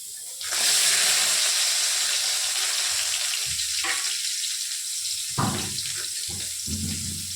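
Mustard seeds, fenugreek and small shallots sizzle and hiss in hot oil for a vatha kuzhambu, a loud steady fry that breaks into bursts and flares of spatter near the end.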